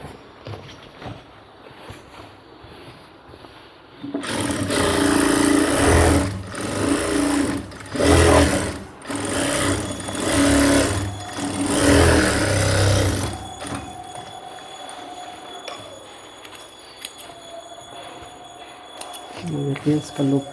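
A sewing machine runs a double seam on cargo shorts, whirring loudly in bursts for several seconds before stopping, with lighter clicks and handling noises after; a voice speaks at times.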